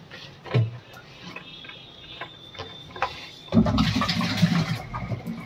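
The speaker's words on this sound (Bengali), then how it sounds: "সুমন আমাদের রুম জলটা ঢেলে দিচ্ছে আর কি।" Water poured out in a student's room, a gushing splash rising suddenly after a few quiet seconds of small ticks and knocks, then running steadily to the end.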